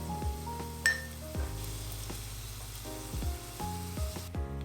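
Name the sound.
shallots and garlic sizzling in hot olive oil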